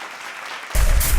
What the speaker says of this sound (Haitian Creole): M'a demandé de battre un gros bravo pour accueillir prestation yo.